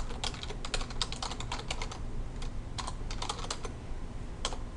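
Rapid keystrokes on a computer keyboard come in quick bursts with short pauses, close-up clicking for several seconds over a faint hum, and no one speaks.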